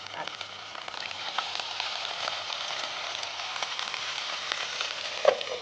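Ginger frying in ghee in a TV studio kitchen, a soft steady sizzle with light crackles and a brief clink near the end, moderately quiet and continuous, no voices.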